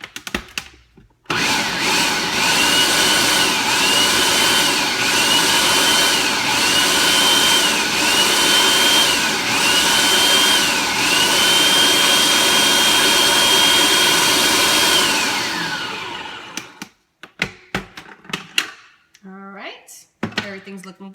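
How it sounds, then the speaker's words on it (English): A food processor roughly chopping olives for homemade sofrito runs as a loud, steady high-pitched whir for about fourteen seconds, then winds down to quiet clatter at the end. "we're gonna first give this a rough chop, all right, in the food processor"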